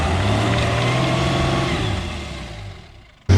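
An HJ47 Toyota Landcruiser's engine drones steadily at moderate revs as it struggles up a steep hill-climb course on a sharp turn, then the engine note sags and fades before a sudden loud burst at the very end.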